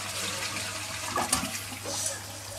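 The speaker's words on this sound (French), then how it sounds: "Donc on vide le réservoir." A toilet flushes as its cistern empties, a close, brief rush of gurgling water that swells and settles within a few seconds.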